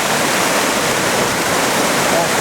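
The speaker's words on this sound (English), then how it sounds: "fast moving water." Fast-moving water rushing beneath a bridge, a loud, dense, unbroken roar heard close up with no pauses.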